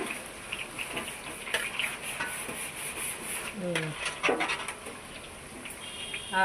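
Boondi drops frying in hot oil at a sweet shop making a large batch of Annamayya laddu, a soft sizzle under scattered clinks of a ladle and a few brief tonal sounds.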